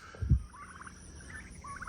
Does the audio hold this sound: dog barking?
no